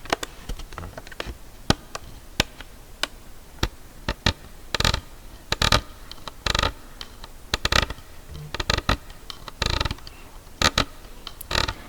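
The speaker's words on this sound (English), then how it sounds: "I'm kind of just rubbing my nail on the turning wheel because it sounds more satisfying" Close, crisp scratchy clicks and brief rasping bursts in uneven rhythm as a fingernail drags across a radio's ridged plastic tuning wheel.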